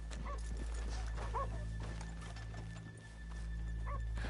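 Horses in Red Dead Redemption 2 shuffle and snort near a town's main street, with soft hoof thuds and brief whinny-like calls over a steady low hum, fairly quiet and close.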